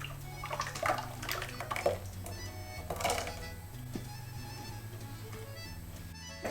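Crepe batter for a 1954 French recipe is poured through a strainer into a big bowl, giving a continuous liquid trickle and splash over a steady low mechanical hum.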